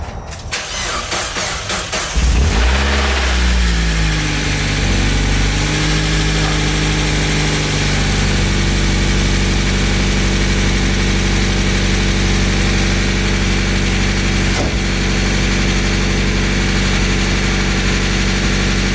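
Mazda Miata with a custom stick-welded exhaust cranks briefly and catches, then settles into a steady, loud, close idle with a low rumbling drone that continues alone for over fifteen seconds.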